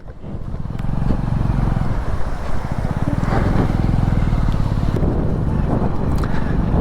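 A Hero Splendor motorcycle rides a rough mountain road after a water crossing, its engine a steady close low drone with wind buffeting the microphone, continuing throughout without pause.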